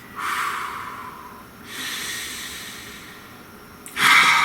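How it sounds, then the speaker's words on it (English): Two slow, deep breaths drawn in and let out close to the mic, each a long airy rush, followed by a sharper, louder inhale at the end, with no talking. "Please take a nice deep breath."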